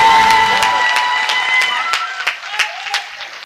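An audience at a poetry gathering in a studio in Etawah breaks into loud, dense clapping with some cheering, which thins out into scattered individual claps as it dies away.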